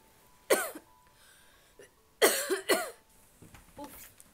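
A woman coughs in two harsh bursts, a single cough followed by a quick cluster of three, close and clear against a quiet room, with softer throat sounds trailing at the end.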